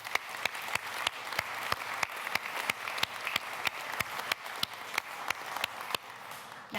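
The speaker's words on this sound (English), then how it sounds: "if you'll join with me in giving them another round of applause" Sustained audience applause at an energy summit, steady dense clapping from a large crowd that carries on throughout without speech.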